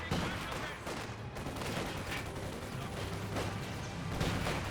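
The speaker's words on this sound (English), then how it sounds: "So a grenade has been thrown here." Grenade blasts and gunfire in a Company of Heroes 2 battle replay, a dense continuous crackle of distant shots and bursts filling the clip at moderate level.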